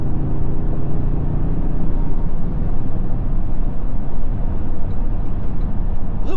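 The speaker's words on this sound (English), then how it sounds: "A little bit of noise from the tires, but I think you can hear the wind noise more." Cabin of a 2025 Toyota Tundra 1794 Edition cruising at about 70 mph, filled with a loud, steady low rumble of tire roar and rushing wind noise, constant and unbroken.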